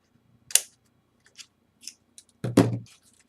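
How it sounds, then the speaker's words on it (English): Scissors trim excess paper from a mini album pocket, giving a few crisp, close snips spaced apart, with one louder final cut. "Cut off the excess."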